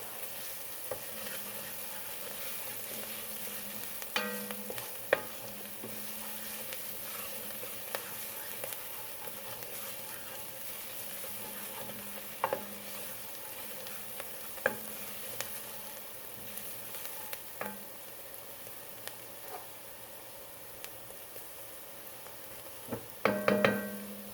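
Crushed red peppers and seasonings sauté in a large pot of vegetarian greens, a faint, even sizzle carrying on throughout, broken by occasional light knocks and a brief clatter of utensils near the end.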